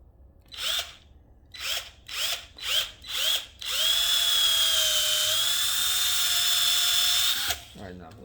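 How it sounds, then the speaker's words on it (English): A power drill running on a job fitting a rubber edge to a John Deere 44 inch snow blade: several short, rising bursts, then one long steady high-pitched whine that cuts off sharply. Loud and close, with no talking over it. "now I'm gonna change drill bits"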